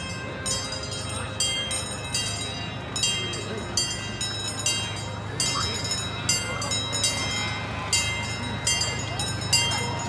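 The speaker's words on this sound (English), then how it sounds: "A train's coming, guys." A miniature amusement park train at Storybook Land passes close with rhythmic clacking wheels and ringing bell tones, loud and steady, with people talking nearby.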